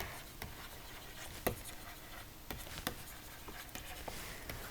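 A pen writes numbers by hand on paper, giving soft close scratches and small taps in short bursts over quiet room tone.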